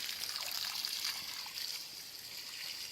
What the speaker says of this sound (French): je laisse couler comme ça arrose bien, ça imprègne bien dans la terre